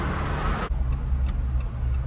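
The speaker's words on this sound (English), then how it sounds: "It's just traffic jammed all the way up" Road traffic in a jam near an abandoned turnpike, heard as a steady, close rumble of car engines and road noise that briefly dips before continuing.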